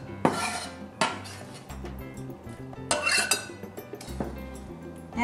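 Plum salsa is scooped into a bowl, with sharp clinks and scrapes of a utensil against the dish and a few clattering knocks at irregular intervals, heard close and alone.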